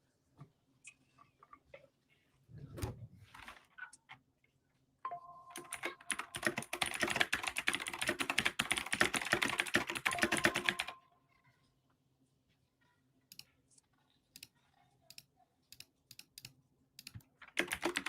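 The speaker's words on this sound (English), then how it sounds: "My keyboard, sorry. Keyboard sucks. That shit's so loud." Loud clacking on a computer keyboard close to an open microphone, a few scattered taps and then a fast, dense burst of typing lasting about six seconds before dropping back to sparse keystrokes.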